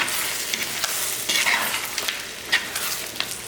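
Mutton fry being stirred in a pan gives off a continuous hiss of sizzling. Sharper scraping and clinking strokes break in at intervals as the meat is turned, close by, with no talking.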